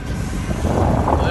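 Strong wind buffeting an outdoor microphone, heard as a loud, continuous broadband roar with gusty swells and no clear voices.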